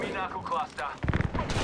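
Rapid bursts of gunfire from Apex Legends, a cluster of loud shots in the second half following a stretch of game noise and talk-like sound.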